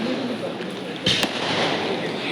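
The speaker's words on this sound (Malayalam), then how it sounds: "നമ്മൾ പടക്കം പൊട്ടീരി കാണുകയാണ് ഗൈസ്." Firecrackers burst at a New Year celebration, with one sharp crack and a quick second pop standing out briefly over a steady crowd murmur and outdoor hubbub; people talk in the background.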